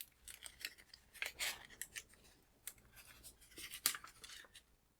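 Sublimation transfer paper being peeled off a freshly pressed, cooled craft piece, giving faint papery scrapes and rustles in short uneven bursts, close and quiet with no talking.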